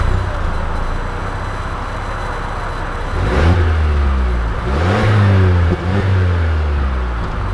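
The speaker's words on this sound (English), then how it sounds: "We are setting off here in the 2020 Mazda CX-5 with the turbo" A 2020 Mazda CX-5 turbo SUV pulls away and accelerates, the engine note climbing steadily through two strong surges over a constant road hum, heard from inside the car.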